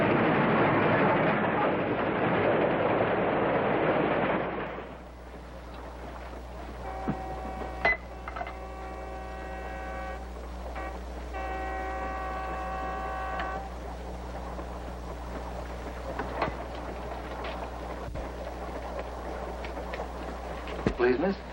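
A passenger train runs steadily with a low continuous rumble, first under loud speech and then beneath quieter conversation and occasional clicks and tones.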